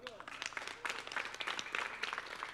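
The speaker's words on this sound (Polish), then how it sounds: "Brawa dla nich." Audience applause at an outdoor music contest festival, a burst of clapping from a crowd heard at moderate distance, mixed with a presenter talking.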